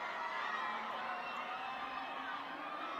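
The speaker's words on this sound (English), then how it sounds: "Fans cheering Mutombo on here." Crowd of fans cheering at a men's championship soccer match between the Victoria Highlanders and Whitecaps FC, a steady broad roar of distant stadium voices with no clear peaks.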